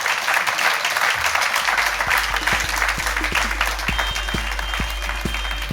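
A studio audience applauds loudly and steadily for television presenter Ben Shephard at the close of a live comedy podcast recording, dense clapping filling the room throughout.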